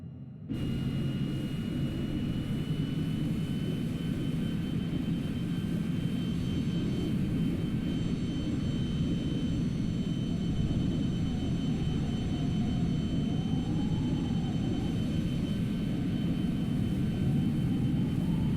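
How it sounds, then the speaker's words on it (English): An RQ-4 Global Hawk drone's jet engine starting up in Microsoft Flight Simulator, a steady loud rumbling roar with a faint rising whine that holds throughout without voices. "You can see now the engine is starting with the percent increasing from 0."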